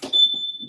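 A home smoke alarm gives out a thin, steady, high-pitched beep that holds for most of the moment, with faint muffled voice sounds beneath it.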